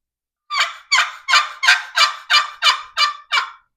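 A wooden turkey box call is scraped to imitate a hen turkey, giving nine evenly spaced raspy yelps, loud and close, with silence around them and no talk.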